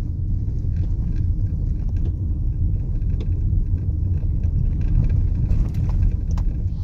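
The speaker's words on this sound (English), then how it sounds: "Definitely isn't the road for this tiny little Kia Soul" A small Kia Soul car drives a rough, unpaved road, its steady low rumble and road noise close and loud throughout, with occasional bumps and rattles and no talking.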